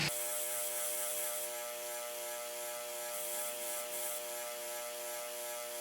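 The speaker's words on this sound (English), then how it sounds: "I'll wire brush the spring by putting it on this bolt so I can hold on to it." A rusted coil spring from a John Deere 110 lawn tractor, held on a bolt, is scrubbed steadily against a wire brush, making a loud, continuous, even rasping whir with a droning hum beneath it.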